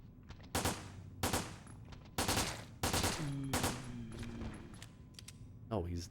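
Loud gunshots in the video game Resident Evil Dead Aim, about six spaced single blasts ringing out at a steady pace, each with a short echoing tail, with faint tones in between.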